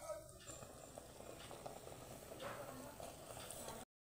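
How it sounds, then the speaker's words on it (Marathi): Dal and water bubbling at a steady boil in a pot for dal chikhlya, a soft continuous simmering hiss with faint gurgles, fairly quiet throughout. "त्या वरण पाण्याला छान अशी उकळी आलेली आहे"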